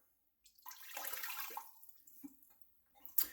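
Water pours into a pot of Mexican hot chocolate (champurrado) in a steady, close splashing stream for about two seconds, then stops, followed by a short clink.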